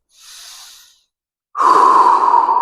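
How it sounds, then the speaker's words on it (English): Steady breathing during a neck, shoulder, hip and knee mobility exercise: a soft airy exhale, a pause, then a louder, rougher rushing breath close to the mic, with no talking. "Normal breathing patterns."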